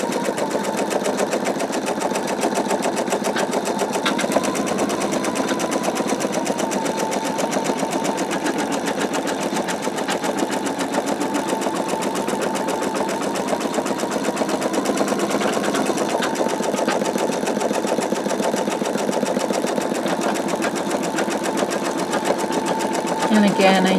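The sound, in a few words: embroidery sewing machine stitching a semicircle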